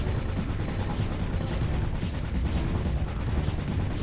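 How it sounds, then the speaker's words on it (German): Dense, continuous rapid weapon fire from the space shooter game Time Wasters, a loud chaotic barrage of overlapping blasts with no breaks. "Oh, 4 Plasma-Schüsse mehr."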